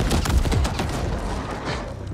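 Explosions and gunfire in the sci-fi shooter video game The Ascent, a dense loud barrage of booms and rapid shots that continues without a break, close and overwhelming throughout.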